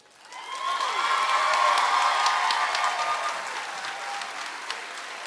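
A large crowd at a Panola College commencement applauds and cheers, a sustained roar of clapping with shouts rising quickly and holding steady, heard from within the hall.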